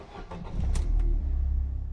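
A Mercedes SLK engine cranks briefly after a trickle-charged battery and catches, settling into a low, steady idle rumble, close and alone.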